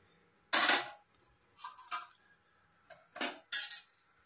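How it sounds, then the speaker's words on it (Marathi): A pot of water on a stand and a tin container set down on a stove give a few separate metallic clanks and knocks, close and moderately loud, with quiet gaps between them. "हे बघा, पाणी ठेवलंय, खाली गाडा ठेवलाय आणि वरती हा डबा ठेवलाय।"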